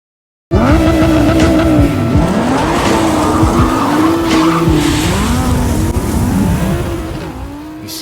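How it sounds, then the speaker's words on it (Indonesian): Cars race and skid along a street, loud tires squealing in long wavering shrieks over engine roar, one continuous burst that eases off at the end. "Vicky dan Manaf pun adu kecepatan mobil di jalanan dan saling salip menyalip"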